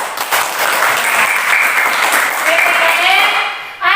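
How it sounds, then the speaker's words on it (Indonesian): A class of children claps together in a classroom, a loud and dense burst of applause that lasts about four seconds. Young voices cheer and call out within it. "Terus sekali lagi tepuk tangan semua."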